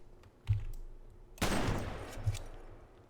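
A shotgun blasts in the multiplayer game GTA San Andreas, one loud, broad report with a short tail, preceded and followed by softer clicks and thuds from the game.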